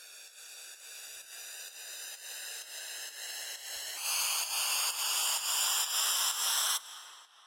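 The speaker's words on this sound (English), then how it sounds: "Then we have a nice flanger upriser riser effect." A flanger-treated upriser effect leading from an electronic dance track's drop into the break, a hissing noise wash with sweeping comb-like tones that rises in brightness and loudness, pulsing faintly in rhythm, before dropping away near the end.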